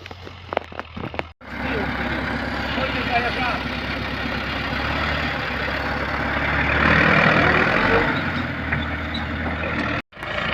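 A heavy tractor engine idles and rumbles steadily, close and loud, with a brief rise in revs midway, while clearing stumps from a plot. A few short knocks can be heard near the start.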